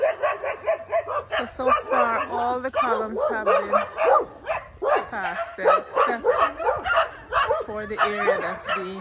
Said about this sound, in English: my neighbor has a lot of dogs next door